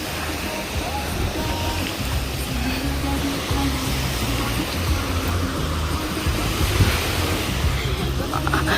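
Surf rolls onto Tsilivi beach at night with a constant wash of waves and wind, steady and fairly loud throughout, with faint background voices mixed in.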